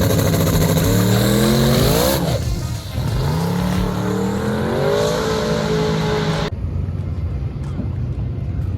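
The Uncle Sam drag race car makes a pass on small tires at Centerville, a loud close engine roaring and revving through rising gear pulls before cutting abruptly to a quieter rumble.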